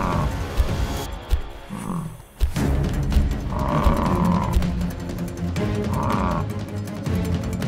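Toy lion and bison figures in a farm diorama, with a lion roar during an attack scene. Growling roars and tonal calls rise over a busy dramatic soundtrack, loud throughout.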